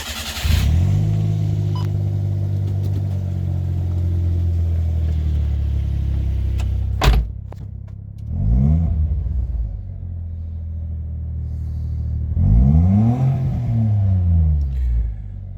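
A Suzuki Every DA52V van fitted with a new $40 aftermarket exhaust idles with a deep rumble, then gets two sharp revs that rise and fall, heard close and clear with no talking.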